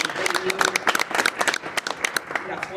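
Scattered clapping from an audience at a Latin American hotel award ceremony, sharp uneven hand claps mixed with voices and crowd murmur, fairly close and continuous through the moment.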